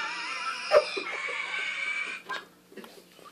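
A voice rasps out a hoarse, wheezy mechanical breath sound, imitating a breathing mask, then trails into quieter huffs.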